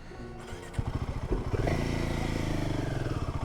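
A motorcycle engine stuck in a traffic jam on a hill road putters nearby, then revs and settles into a pulsing idle, with faint clatter.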